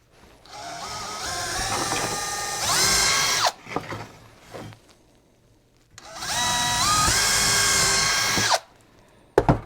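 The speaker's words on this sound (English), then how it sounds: "So I'm going to drill a bigger hole straight down the same hole." A power drill whirs at high speed, widening an existing hole in a wooden board for mounting deer antlers, in two long bursts with a short pause and handling clatter between, loud and close.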